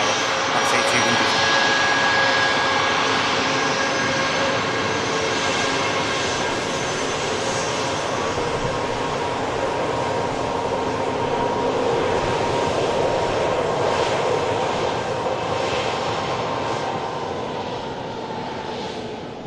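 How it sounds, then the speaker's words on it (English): Ryanair jet just arrived from Faro at Manchester Airport, a steady loud engine whine and rumble over the whole stretch, fading slightly at the end, with faint talk. "here's the Ryanair that's just arrived in from Faro"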